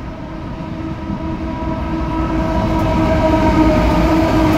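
A CF class passenger train rumbles steadily as it pulls into a station, a low continuous roar that grows slightly louder and closer, with no voices.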